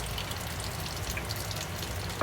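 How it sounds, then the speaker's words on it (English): Water trickling and draining steadily from an opened well filter housing, a faint, continuous hiss with a small clink near the end. "you'll see that's full of water, so leave that to drain down"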